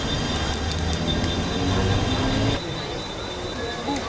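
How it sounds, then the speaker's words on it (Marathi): A Kolhapur-bound passenger train arrives at a station platform, its loud steady rumble and rail noise filling the first two and a half seconds before easing to a quieter hum, with no voices over it. "कोल्हापूर ट्रेन इलेली असा."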